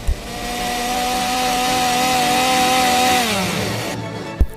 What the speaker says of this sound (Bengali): এটা বাইক নাকি গাছ কাটার মেশিন